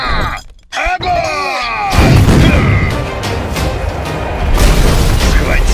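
Heavy booms and crashing blasts of cannon fire erupt after a brief lull, followed by a sustained roar of rumbling, chaotic noise.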